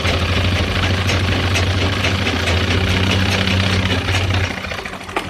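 Sewing machine stitching a zip onto gents' formal trousers: a loud, steady motor whir with a low hum runs continuously, then stops abruptly near the end, followed by faint handling noise.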